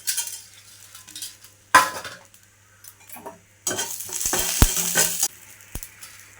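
Chillies, garlic, curry leaves, pepper and cumin fry in a drop of oil in a pan, with intermittent sizzling bursts and scraping stirs of a utensil, plus a low steady hum beneath.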